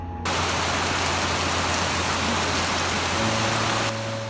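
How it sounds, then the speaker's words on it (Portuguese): Dense, steady tropical rain in Ecuador hisses evenly throughout, a broad wash of falling water with a low hum underneath. "o melhor é mesmo parar e desfrutar o som das chuvas tropicais"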